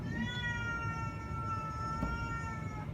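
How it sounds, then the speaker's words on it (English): A neighborhood cat roaming outdoors gives one long, drawn-out meow, close and steady, holding its wavering tone throughout with no talking. "this cat up here just kind of wanders around the neighborhood"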